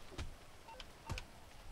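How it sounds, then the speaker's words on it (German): Mobile phone opened in GTA Online, a few short faint electronic beeps and clicks spaced apart over a low background hum. "Warte, ich mach schon mal mein Telefon auf."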